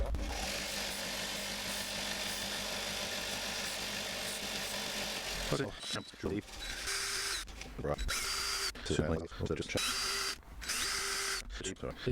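A power drill fitted with a dull, worn drill bit whines continuously and loudly for about five seconds, then cuts out into short starts and stops, with someone talking afterward.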